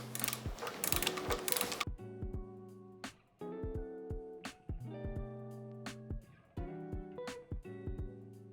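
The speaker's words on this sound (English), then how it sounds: "You just unscrew it using 6mm Allen key" A 6mm Allen key unscrews a rear suspension bolt on a swing arm in repeated short ratcheting clicks, close and crisp, with brief pauses between strokes and a burst of broadband rattle at the start.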